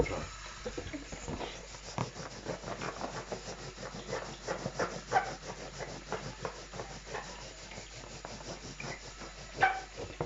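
Something is rubbed briskly for a weather science experiment, a soft scratchy rhythmic friction repeating steadily up close at low volume, with faint speech now and then.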